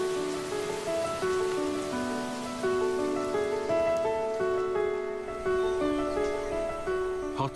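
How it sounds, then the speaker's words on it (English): Heavy rain pours on a Sri Lankan rainforest, a dense continuous patter of drops on leaves and surfaces, while steady tonal insect or bird calls ring through the wet canopy. "Each year, the wettest part of the island is inundated with up to 5 meters of rainfall."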